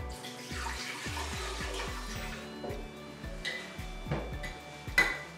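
Tea is poured into a blender or cup for a super smoothie, a soft steady liquid stream with a few faint clinks, quiet and close, with no talking.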